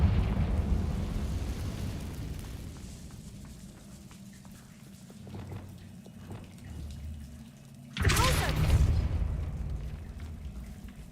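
A Confringo fire spell explodes in the Hogwarts Legacy video game: one sudden loud blast near the end, trailing into a rumbling crackle over low, murky ambience.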